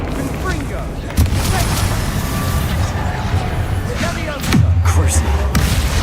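Confringo spell blasts in the Hogwarts Legacy video game: two loud, booming explosive impacts, one after about a second and another near the end, each followed by a rumbling tail over busy game sound.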